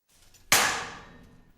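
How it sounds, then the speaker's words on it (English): Two clay-covered cars smash into each other at speed in a head-on crash test: one sudden, loud metallic bang that rings and fades over about a second. "2 cars smashing into each other at speed 1x."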